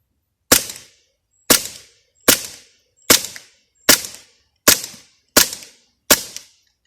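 Eight sharp airsoft gun shots fire at a steady pace about one per second, each a loud crisp crack with a short decay, then the firing stops as the ammunition runs out.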